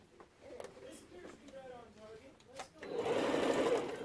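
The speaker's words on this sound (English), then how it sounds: "Sew on the right side, 1/4 inch." A sewing machine chain stitching quilt patches, soft intermittent stitching at first, then a steady louder whirring run near the end, close by and low in level, with a voice talking.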